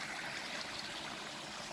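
Creek water spills over a small waterfall with a soft, steady trickling rush, faint and continuous, with no voices.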